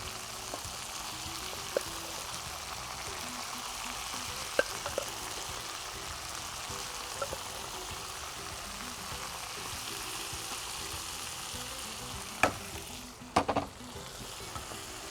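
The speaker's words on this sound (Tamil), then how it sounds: "போட்டு நல்லா இதை ட்ரை பண்ணிக்கலாம்" Mutton and potato pieces fry in a pan with a quiet, continuous sizzle, broken by occasional clicks and stirring knocks, with no talking.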